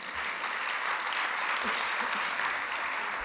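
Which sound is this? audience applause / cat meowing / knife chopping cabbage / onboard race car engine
audience applause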